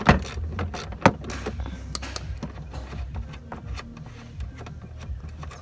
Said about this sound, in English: So just undo this bolt at the back of it.